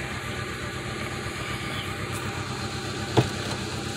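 A 2000 Pontiac Sunfire engine idles roughly with a steady, low mechanical drone, close by, and one brief clunk near the end.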